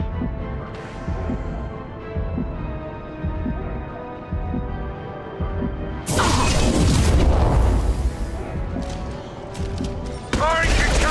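Gunfire and a concussive shot in the Mass Effect video game: a throbbing low pulse gives way to a dense, loud burst of blasts and crackling impacts, with game voice lines in the mix.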